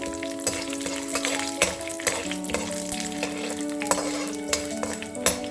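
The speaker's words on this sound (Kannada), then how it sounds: "ಈ ಉದ್ದಿನಬೇಳೆ ಕಡಲೆಬೇಳೆ ಸ್ವಲ್ಪ ಫ್ರೈ ಮಾಡ್ಕೊಳ್ಳಿ ಹೀಗೆ" Steady crackling sizzle of urad dal and chana dal frying in hot oil, with occasional louder pops and scrapes of stirring, close by and with no voices.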